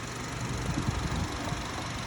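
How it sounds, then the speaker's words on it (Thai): A third-generation Honda CR-V with a 2.0-litre engine idles with a smooth, steady low rumble and faint mechanical ticking, unbroken and without voices. "เครื่องยนต์ก็เดินเรียบนิ่งเงียบเลย"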